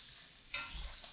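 Steady, close sizzling of chorizo hash frying in a pan, with a brief louder spatter burst partway through.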